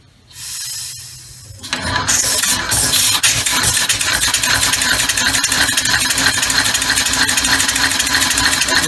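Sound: three-cylinder six-stroke oval air engine running on pressure regulator

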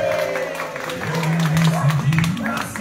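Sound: people clapping for a birthday

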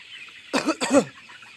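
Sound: chickens clucking on a poultry farm

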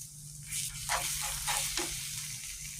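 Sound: snake gourd and egg thoran being stir-fried in a pan

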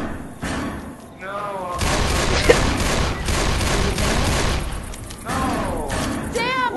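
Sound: gunshots in video game Left 4 Dead 2

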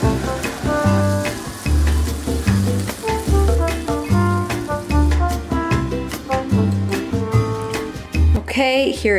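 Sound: pan-frying Blue Apron crispy skin salmon

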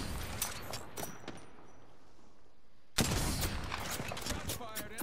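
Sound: gunfire from the video game Apex Legends

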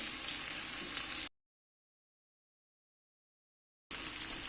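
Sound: garlic, salt, chili and peanut mix sizzling in tempering

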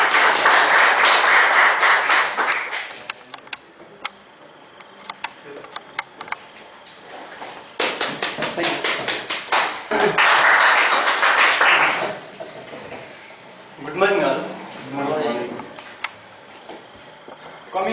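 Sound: audience applause

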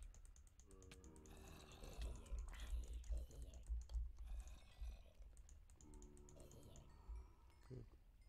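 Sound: computer keyboard keys being mashed while playing Minecraft

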